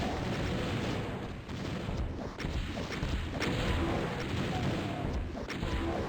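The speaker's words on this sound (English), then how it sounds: "we're just going to start pumping rockets into here" Rockets fired in the Doom map pack Eviternity II, Map 9, boom in dense overlapping blasts and explosions, a loud continuous barrage of game combat with crashes and rumbling impacts throughout.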